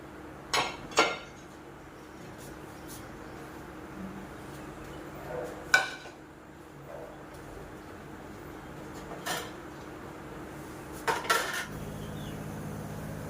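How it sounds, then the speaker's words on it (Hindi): In a home kitchen, pots, pans and cutlery are put away in scattered bursts: metallic clinks and clatters a few seconds apart over a quiet room tone. "अब शुरू कर देती हूँ बर्तन लगाने"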